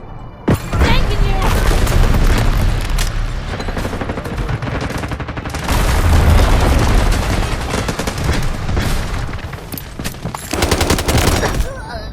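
Heavy gunfire from the mobile shooter game Delta Force Mobile, loud and nearly continuous, with rapid automatic bursts, booming blasts and crashes packed together over the whole stretch.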